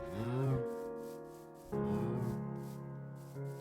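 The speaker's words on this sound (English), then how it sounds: "I see 1, 2, 3, 4 cows and a baby." Cows mooing in the Minecraft game, two drawn-out moos in succession followed by the start of a third, close and clear with no talking.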